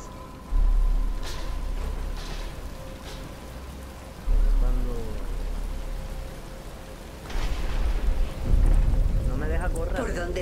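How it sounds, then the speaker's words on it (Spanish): Rain begins falling in the Batman: Return to Arkham video game, a steady hiss of drops with low rumbling surges, heard alongside other game effects and faint voices. "Pero está empezando a llover"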